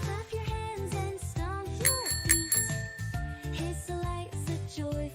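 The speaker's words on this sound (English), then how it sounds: "This is a bicycle." A bicycle bell rings in bright, repeated metallic dings over a busy musical backing, several quick rings scattered through the passage with no speech.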